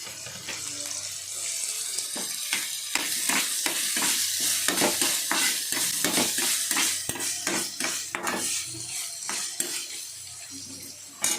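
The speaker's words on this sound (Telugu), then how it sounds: "ఇందులోకి టమాటాలు కూడా వేసి ఫ్రై అవనివ్వాలి." Tomatoes fry with boiled broad bean seeds in a pan, giving a busy sizzle with repeated scraping and clattering stirs against the cookware throughout.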